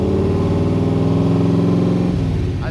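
A polished 1965 Shelby Cobra Kirkham with a big block engine revs loudly and close, a sustained throaty roar that holds steady before easing off near the end.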